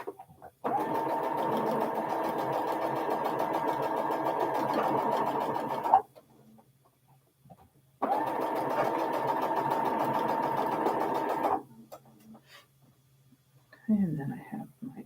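Sewing machine stitching quilt hourglass units for a stashbuster project, running in two steady bursts of about five seconds each with a silent pause between, followed by a brief soft voice at the end.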